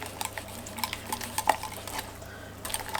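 Skyr yogurt is stirred into lemon cream in a bowl, giving soft wet clicks and light scrapes of a utensil against the bowl in an irregular rhythm, fairly quiet and close.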